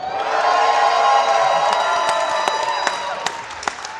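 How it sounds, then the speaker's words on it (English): Audience crowd cheering and whooping at a live comedy wrestling show, a loud sustained roar with scattered claps and shouts that slowly tapers off. "And if you think it is Lumbersnack Tom Dyke, please cheer now."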